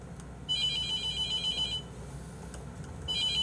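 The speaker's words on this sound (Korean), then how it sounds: "전화 왔네" A telephone ringing in a horror video game set in a mortuary, two bursts of electronic ringing separated by a short pause over a low ambient drone.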